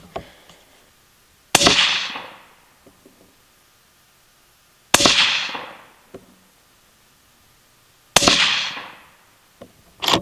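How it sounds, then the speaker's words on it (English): Three sharp, loud rifle shots ring out about three seconds apart from a 6.5 Grendel Howa Mini firing 90gr Hornady CX loads. Each crack is followed by a decaying outdoor echo, with quiet pauses between shots. "We will shoot a group."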